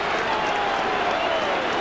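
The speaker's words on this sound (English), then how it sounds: "big Halifax crowd delighted by it all" A big Halifax rugby league crowd roars and applauds after a tremendous try in a cup tie against Hull KR, a dense, steady wash of cheering and clapping throughout.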